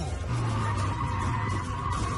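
A car skids under hard braking on a street in an abandoned neighborhood, a continuous loud tire squeal with engine rumble underneath lasting throughout.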